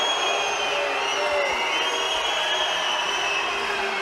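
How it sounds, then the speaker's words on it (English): A large arena crowd at a men's team sabre fencing final in Budapest sends up a sustained, droning boo while the referees check video, loud and continuous with no break. "Crowd's booing because the referees are checking video."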